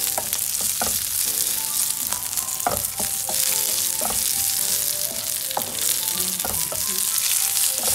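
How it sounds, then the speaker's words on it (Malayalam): Grated coconut and curry leaves frying in coconut oil in a frying pan for Onam koottucurry, giving a loud, steady sizzle with frequent scraping stir clicks throughout. "നന്നായിട്ട് നമ്മൾ ചോക്കനെ വറക്കണം കേട്ടോ. ഈ സമയത്ത് നമ്മൾ ഒരു തണ്ട് കറിവേപ്പില ഇട്ട് കൊടുക്കുന്നുണ്ട്."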